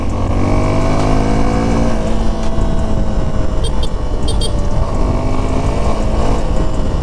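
A steady, loud single-cylinder Suzuki V-Strom SX 250 motorcycle exhaust thumps away at idle, a continuous low chugging rumble with no pauses.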